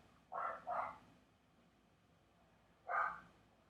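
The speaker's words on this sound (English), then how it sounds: "Grandma's dog's barking" A household dog kept in a garage barks at a distance: a quick double bark followed by a single bark a few seconds later, faint against a quiet background.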